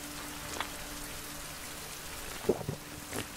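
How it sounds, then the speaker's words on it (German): Rain in the survival video game Survival: Fountain of Youth, a faint steady patter with a few soft nearby clicks and taps, no speech. "Oh, es regnet."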